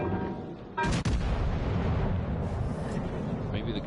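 Warship guns firing in World of Warships Legends, heavy booming salvos with a sharp blast near the one-second mark over a constant loud rumble, with someone talking over it.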